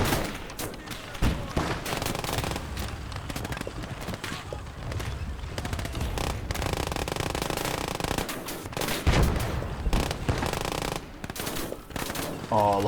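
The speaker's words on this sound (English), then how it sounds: "there is this machine gun, which will be able to do some decent damage" A machine gun fires in the Gates of Hell war game, rapid bursts mixed with clattering and distant battle noise at fairly constant loudness, with some talk over it.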